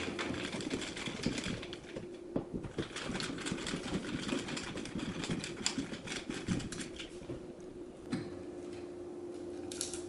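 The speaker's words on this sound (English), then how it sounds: "Unscrew the screws," Screws are backed out of an electrical outlet cover plate, a busy close-up mechanical whirring and ticking with uneven rattles that carries on for about ten seconds.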